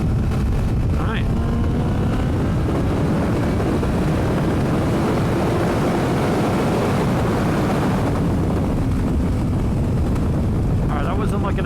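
Motorcycle accelerating on an open road at high speed, with heavy broadband wind buffeting over a clip-on Xvive LV2 microphone; steady loud roar throughout, engine and rushing air blended, no one talking.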